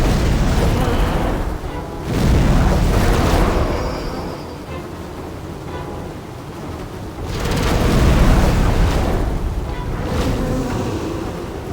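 A hoofed boss fires its cannon in the video game Demon's Souls, setting off two heavy, roaring booms that swell and fade over several seconds amid a constant rumbling wash of game noise.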